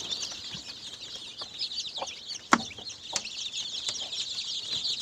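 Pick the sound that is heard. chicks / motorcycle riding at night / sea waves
chicks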